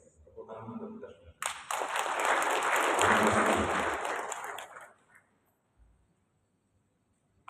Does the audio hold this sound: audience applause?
yes